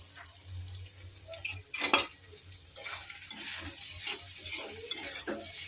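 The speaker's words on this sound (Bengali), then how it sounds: "এবার এগুলো আস্তে আস্তে ভাজা ভাজা হবে" Soft sizzling of soya chunks and potatoes frying in a pan with scraping strokes of a spoon stirring pieces around, a few louder scrapes standing out.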